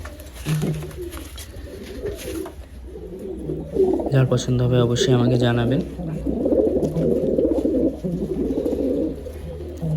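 Pigeons of Madras breed coo in soft, throaty bursts close by, mixed with someone talking over much of the time.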